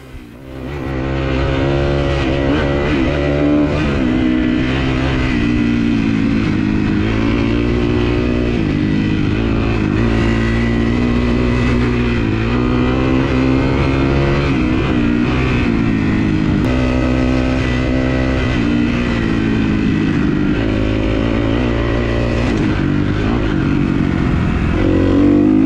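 An enduro dirt bike engine roars continuously at high revs while accelerating on a training ride, a loud, close, sustained buzzing drone with slight pitch swells and no talk.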